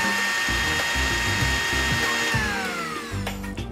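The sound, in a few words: grinder grinding roasted spices into powder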